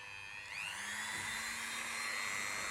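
A rotary tool bit spinning at roughly 10,000 to 14,000 RPM cuts through 1.5 mm acrylic sheet with a steady, close, high-pitched whine that rises as the bit bites into the plastic.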